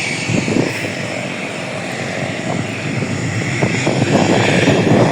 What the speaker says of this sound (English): Those engines, they are now almost a high percentage now.